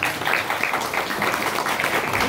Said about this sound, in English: Let's give Nick the Greek a round of applause.